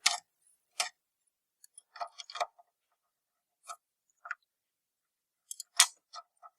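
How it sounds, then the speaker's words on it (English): Sparse, sharp snips from cutters trimming the wires of an AC power connector for a transformer power supply, a handful of separate clicks spread out with quiet gaps between them. "Cut these to appropriate length."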